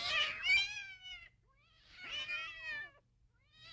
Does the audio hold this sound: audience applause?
no